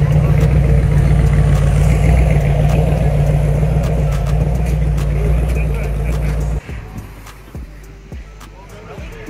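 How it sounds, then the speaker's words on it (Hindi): A muscle car idles at a St. Louis car show with a loud, steady low engine rumble and background chatter. The rumble cuts off abruptly partway through, leaving quieter ambient sound. "ये है मसल कार।"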